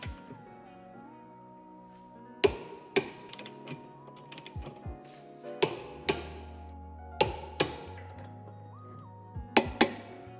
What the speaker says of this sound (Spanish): Apretaremos los tornillos de 12 a 87 Nm.